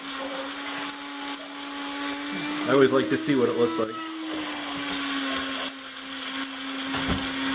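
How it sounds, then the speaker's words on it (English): A coffee grinder grinding dried dandelion, broadleaf plantain and stinging nettle leaves whirs steadily with a high motor hum, its pitch wavering briefly in the middle as it grinds, while a person talks over it. "So what I did is we have this coffee grinder."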